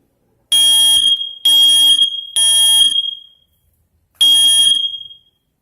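A smoke detector being tested blares in loud, piercing beeps: three long tones in a row, a pause, then a fourth.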